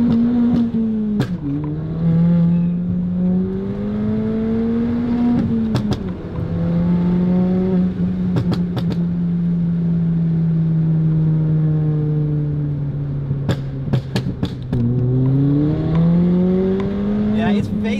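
A 290 bhp stage 3 Fiesta ST accelerating hard with traction control off, the engine droning and rising through the gears with brief shift breaks and sharp ticks, loud and close from inside the car, a voice talking over it.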